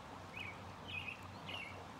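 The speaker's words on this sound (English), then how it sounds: "you can hear those birds chirping." Three short bird chirps at sundown in spring, spaced about half a second apart over a soft, steady outdoor background with a flowing stream, fairly distant.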